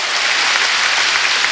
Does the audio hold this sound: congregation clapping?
yes